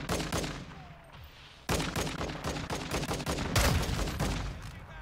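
Gunfire in the Call of Duty Modern Warfare 2 beta, heard as loud, rapid bursts of automatic fire that run almost continuously. A short lull comes before the shooting picks up again, and no one talks.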